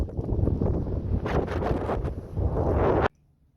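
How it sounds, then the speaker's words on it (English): Gusty wind blasts across the microphone aboard a small boat in loud, rough bursts, then cuts off abruptly into near quiet. "Wait, it's windy."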